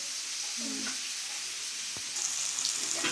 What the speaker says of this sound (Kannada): ನೋಡ್ಬೋದು ಚೆನ್ನಾಗಿ ಫ್ರೈ ಆಗ್ತಿದೆ ಮೀನು